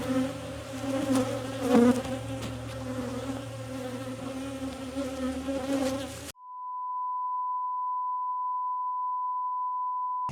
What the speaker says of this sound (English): I knew I had a bee in here.